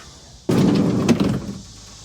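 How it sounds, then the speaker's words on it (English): An RV door swings open with a sudden thud and bumps against a nearby cabinet, stopping halfway; a brief knock-like contact follows, then the sound fades into quiet room tone. "The door stops halfway because the cabinet's there."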